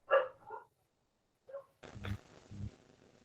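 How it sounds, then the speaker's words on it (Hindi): Dogs bark a few short times at a distance in the background, followed by dull thumps and muffled noise in a quiet room. "क्या कुत्तों की आवाज ज्यादा आ रही है?"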